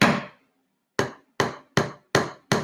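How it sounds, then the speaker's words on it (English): A hammer drives nails in a DIY craft project: one ringing strike, a pause, then four sharp, evenly spaced blows close by, each decaying quickly, with no talking. "I'm gonna hammer in these nails."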